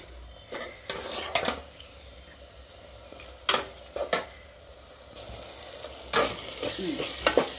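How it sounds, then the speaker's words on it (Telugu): Food frying in a generous amount of oil over a low flame, with a soft continuous sizzle and several sharp scrapes and clinks of a spoon stirring against the pan. "సిమ్లో పెట్టి వేగించుకోవాలి."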